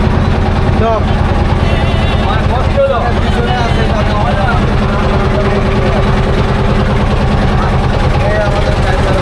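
A boat engine on a tourist boat at Rangamati runs in a loud, steady low rumble the whole time, while people talk over it.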